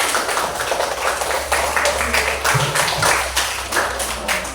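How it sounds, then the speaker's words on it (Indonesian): A classroom claps for a group presentation, a dense burst of applause that lasts throughout, loud and close, with a low hum underneath. "Oke, tepuk tangan"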